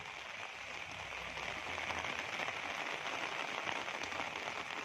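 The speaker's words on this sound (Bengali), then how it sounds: "বৃষ্টিটা আবার বাড়ছে, বৃষ্টি এখন কমবে না কিন্তু" Steady rain falls outdoors under a darkening sky among guava and coconut trees, a dense, continuous hiss of drops on surfaces that swells slightly and runs without a break, with no voices.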